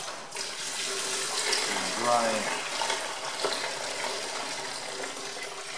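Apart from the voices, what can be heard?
water draining from MF135 tractor radiator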